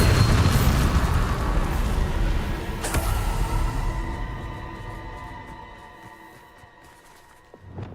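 Bombarda spell explosion in Hogwarts Legacy video game, a heavy booming blast with a sharp crack partway through, its rumble slowly decaying into a faint tail with a small pop near the end.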